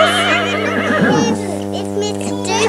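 A horse neighs close by, a high, wavering whinny lasting a couple of seconds over a steady background hum.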